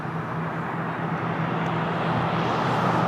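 An Embraer Legacy business jet with German registration, operated by VistaJet, at Lisbon Airport gives off a steady, broad engine roar, moderately distant and swelling slightly over a few seconds.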